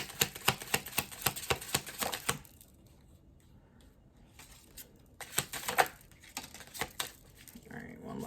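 Tarot cards being shuffled by hand, bursts of crisp rapid riffling clicks, a pause of near silence, then another round of shuffling up close.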